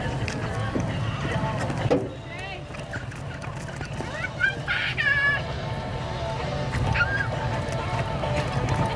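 An old gray horse at a rodeo, with faint hoofbeats and a whinny under an arena announcer talking over a loudspeaker, plus scattered animal calls and crowd noise in the background.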